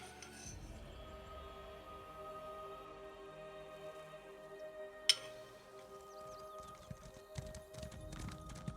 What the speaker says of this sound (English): That's a cool horse.